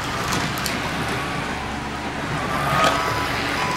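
Carrera digital slot cars whirring around a four-lane track, a steady buzzing motor drone with a brief swell as a car passes close, no talk.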